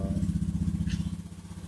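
A repaired Honda Beat Street motorcycle engine runs close by at a steady idle, with an even, throbbing putter that holds throughout.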